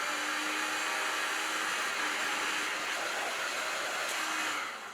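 A dryer blows steady, hissing air across a freshly thrown clay pot on a pottery wheel, a constant broadband whoosh that stays even throughout and tapers slightly at the end, with no voices.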